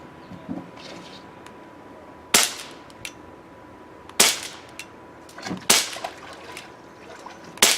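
Crosman 1911 BB pistol fires four sharp, snappy shots at irregular intervals, close and loud over a quiet outdoor background with faint ambient noise between them.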